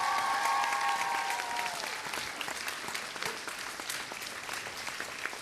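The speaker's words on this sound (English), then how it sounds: "Let's give the councillors a round of applause." An audience applauding councillors at an evening thank-you event, a dense steady clapping from a crowd that tapers slightly over a few seconds, with a brief tone ringing at the start.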